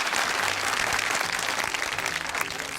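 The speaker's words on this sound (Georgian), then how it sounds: "მეორე აპლოდისმენტებით ვაჯილდოვებთ დათუნა ავადაშვილს" A crowd gives sustained, loud applause for a contestant while choosing a winner, an even wash of many hands clapping throughout.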